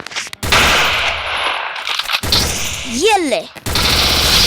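Gunfire in the Free Fire mobile game, several sharp bursts of shots separated by short gaps, loud and close, with a voice briefly speaking between them.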